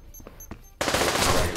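Rapid P90 submachine-gun fire in the VR shooter Pavlov during an all-star competitive match, a loud dense burst starting abruptly after faint scattered sounds and continuing without pause.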